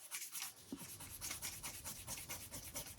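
An eraser rubs out pencil lines on paper, a soft, quick back-and-forth scrubbing in a steady rhythm, close and quiet, with no voices.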